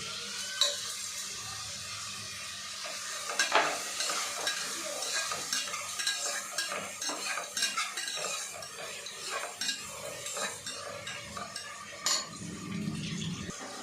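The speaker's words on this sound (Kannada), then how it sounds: "ಇದು ಚೆನ್ನಾಗಿ ಫ್ರೈ ಆಗಲಿ. ಫ್ರೈ ಆಗಬೇಕಂದ್ರೆ ಸ್ವಲ್ಪ ಉಪ್ಪು ಹಾಕಬೇಕು." Vegetables fry in a pan with rock salt added, a steady sizzle under frequent stirring, scraping and the clink of a metal utensil against the pan, close up and without speech.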